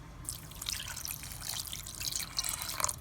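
A small splash of water poured into tomato paste and oregano sauce for lasagna, giving light dripping and trickling sounds that are brief and close, with no talking.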